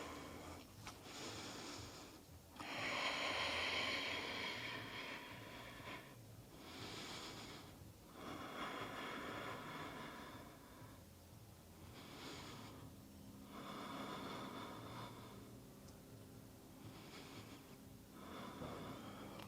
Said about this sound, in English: 3 or 4 more breaths.